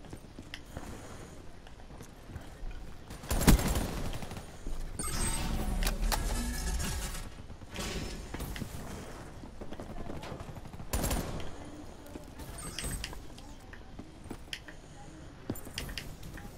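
Gunfire in a first-person shooter game arrives in scattered bursts: a sharp shot early, then louder rattling volleys in the middle and a later burst, separated by quieter stretches of in-game movement.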